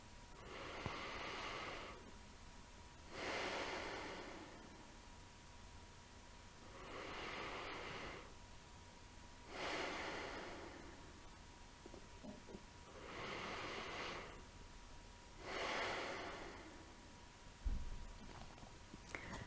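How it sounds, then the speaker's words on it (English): Diaphragmatic breathing demonstration: slow, regular in-and-out breaths in a steady rhythm, about five airy swells, close and quiet in a calm room with no talk. "That's diaphragmatic breathing."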